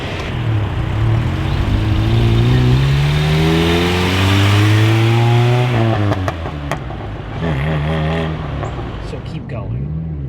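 A VW Scirocco with a swapped-in VR6 engine is started and revved: the pitch climbs steadily, drops, then stumbles into uneven sputtering blips. Voices talk over the engine throughout.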